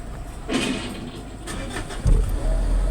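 A 2009 Mitsubishi Strada with a check-engine fault and low power cranks briefly, then its engine catches with a low rumble and settles into a steady idle close by.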